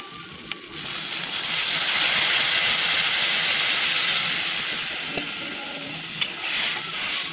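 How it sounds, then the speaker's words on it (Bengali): Water poured into a hot pan of shrimp bhuna with chilli powder, bursting into a loud, steady steaming sizzle that hisses close up for several seconds, with small pops and clicks. "এখন জল দিয়ে দেবো।"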